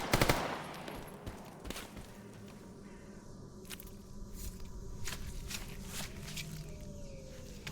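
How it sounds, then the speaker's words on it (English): Gunfire aimed at a boar in a video game: sharp shots ring out, a quick burst at the start then scattered single cracks over a low rumbling ambience, with no voices. "we will have to shoot at the boar to attract the attention of the free stalkers in there"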